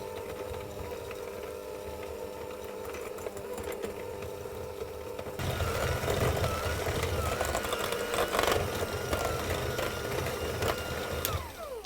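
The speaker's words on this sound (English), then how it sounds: "I'm going to do this with my hand mixer" An electric hand mixer creams biscuit dough in a bowl with a steady whirring buzz, which gets louder and more rattly partway through as the beaters dig in and scrape.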